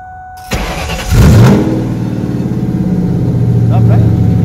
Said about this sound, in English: we're at least gonna go start it up now so that you can get a feel for what our little Mustang sounds like